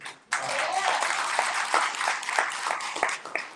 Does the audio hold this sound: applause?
yes